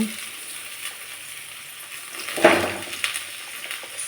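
Chopped kohlrabi and potato tumbling into a hot frying pan set off a quiet sizzle that turns into a louder hiss with a clatter after the pieces land.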